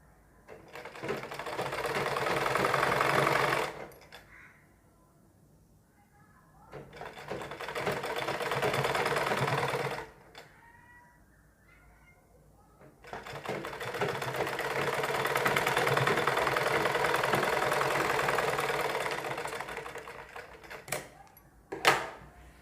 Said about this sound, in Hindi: ब्लू कपड़े पर सिलाई चलानी है।